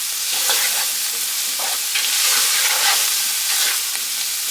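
Garlic and seasoning fry in a pot for a cabbage soup, giving a steady close sizzle with soft stirring scrapes and no voices.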